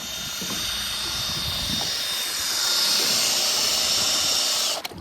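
Makita 18V cordless drill rigged as a boat outboard motor, running continuously with a high whirring whine over water churning and wind noise, swelling slightly louder midway before cutting off abruptly at the end.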